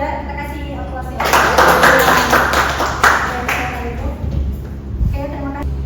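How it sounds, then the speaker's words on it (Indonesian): A classroom audience in a university chemistry lecture claps for a student. The applause swells for a few seconds and then fades, with a voice talking briefly afterward. "Kita kasih aplaus ya"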